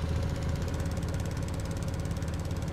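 Tractor engine in Farming Simulator 19 running at a steady idle, a loud, dense mechanical rumble with a fast regular knocking pulse that holds constant throughout.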